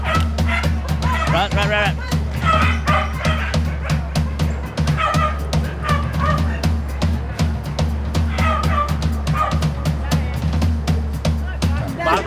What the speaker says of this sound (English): Release the hounds.